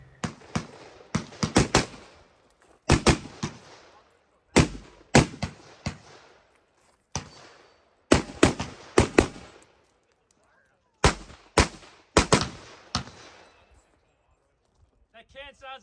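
Rifle shots strike a steel can target at a shooting match, sharp loud cracks fired singly and in quick pairs and bursts, each followed by a short ringing decay with pauses between.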